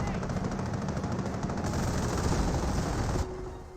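Sapper squad gunfire in a Company of Heroes match: dense, continuous rattling bursts that hold steady at close range for about three seconds, then break off abruptly, leaving a faint tail.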